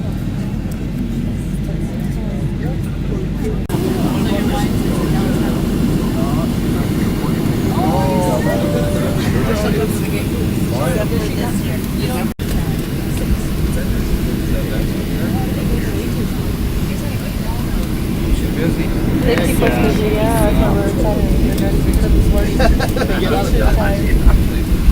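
Airplane engines hum as a steady, broad rumble inside the cabin on the ground before takeoff at night, with people talking over the constant drone.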